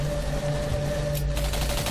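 Gunfire in the sci-fi shooter Singularity crackles as a steady mid-distance fusillade of rapid shots, continuous and fairly loud under a droning background hum.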